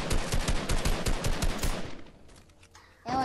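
Rapid, loud bursts of heavy sniper rifle gunfire in a video game, a dense run of shots fading out after about two seconds before a sharp noise returns at the end.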